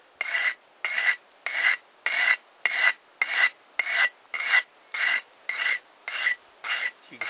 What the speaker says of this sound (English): You can see I move it around on the stone a bit because I don't want to end up with a groove all in one place.